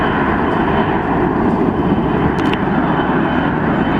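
A WestJet airliner takes off at an airport, its engine roar loud and steady throughout, a broad continuous rumble heard from a distance with no talk over it.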